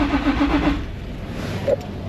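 A Nissan 350Z with a no-start fault cranks in a repair shop, the starter churning in a quick, even rhythm that stops, followed by a brief higher whir and engine background.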